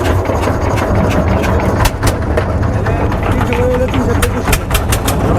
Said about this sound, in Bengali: আমাদের বোট ছেড়ে দিছে এই আন্দামানি ঘাট থেকে আসছে